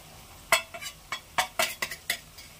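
A spoon scrapes and taps through fish curry paste while mixing in spice powders, giving a quick run of about eight sharp metallic clinks close by, with no talk.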